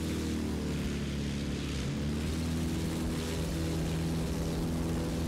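A propeller airplane engine in the Battlefield 1943 video game on Xbox drones loudly and steadily during takeoff, a constant throbbing hum with no pauses.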